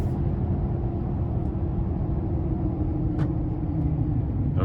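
Turbocharged V8 of a 2024 GMC Sierra 2500 HD AT4X AEV pulling on the road, heard from inside as a steady, dense low rumble with constant road and cabin noise, no talking.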